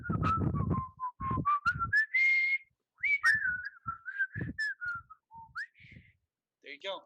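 A person whistles a short, wavering tune at close range, the melody gliding between notes in uneven phrases, with bumps and soft background noise breaking in between the whistled passages.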